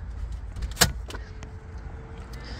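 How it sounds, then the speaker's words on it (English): Door locks of a 1996 BMW Z3 roadster actuating via an aftermarket Viper key fob remote, a single sharp clunk with a brief faint whir, close by against a low outdoor background hum. "you can unlock and lock the doors with a key fob like any modern car"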